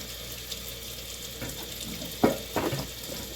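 Meat being washed under a running kitchen tap, a steady hiss of water with a couple of splashing, handling sounds near the end; no talking.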